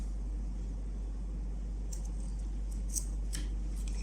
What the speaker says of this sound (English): And we'll take the scissors